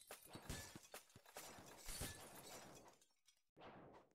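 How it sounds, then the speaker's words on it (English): Glass shatters and breaks in the game Pet Tycoon, a burst of crashing breakage with several sharp smashes over a few seconds, fairly faint, then a brief pause and one more crash at the end. "I love hearing the glass break."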